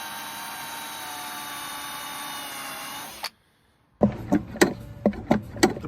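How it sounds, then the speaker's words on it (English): Tile hole cutter drilling through a camper van wall, heard as a steady, loud whining drone for about three seconds that stops abruptly. After a short silence come several sharp knocks and clatters. "So we're cutting through here with a tile hole cutter."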